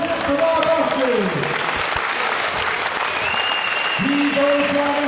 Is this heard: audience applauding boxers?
yes